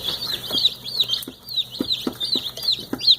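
Young chicks raised as meat birds peeping in repeated high chirps close by, with occasional soft clucks and pecking taps underneath.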